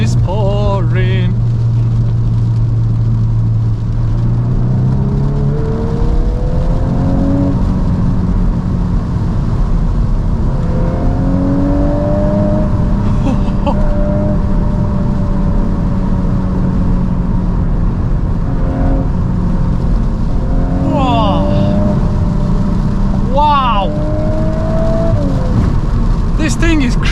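VW MK8 Golf R driving in pouring rain, heard from inside with a loud steady road and rain roar, engine notes rising and falling as it accelerates and shifts, and talk over the top.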